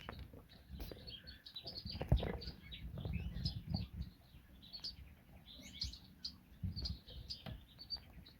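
Moluccan mannikins in an aviary give soft, scattered high chirps and tweets, irregular and fairly quiet, with light rustling and patter underneath.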